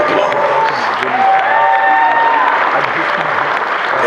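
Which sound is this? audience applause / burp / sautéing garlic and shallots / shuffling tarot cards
audience applause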